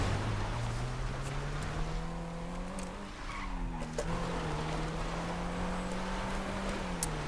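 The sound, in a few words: Mercedes-Benz 300 SL Gullwing car drifting, video game GTA Online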